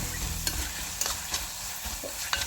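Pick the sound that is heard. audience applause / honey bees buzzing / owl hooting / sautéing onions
sautéing onions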